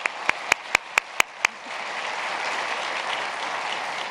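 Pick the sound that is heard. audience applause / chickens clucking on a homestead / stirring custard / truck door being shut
audience applause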